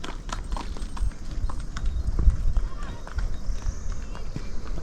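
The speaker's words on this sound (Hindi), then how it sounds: "देखो पहला घोड़ा दिखाई दिया है किसी को ले जाते हुए" Horse hooves clip-clopping on a mountain trek path to Madhmaheshwar, a steady run of hoofbeats close by, with someone talking over them.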